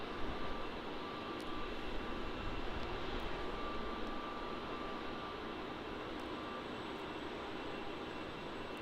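A Rex Boeing 737-800 airliner at Melbourne Airport gives off a steady, broad, distant engine roar that holds evenly for several seconds, with no talking.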